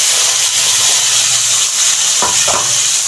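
Onion and tomato paste hits hot oil with cloves, cinnamon and cardamom in a pan, giving a loud, steady broadband sizzle throughout with a couple of brief stirring scrapes near the end; no talking.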